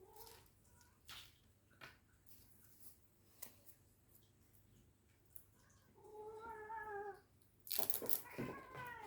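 A house cat meows several times indoors, faint at first and then a louder, drawn-out pair of tonal cries near the end, with soft paper and crafting rustles beneath.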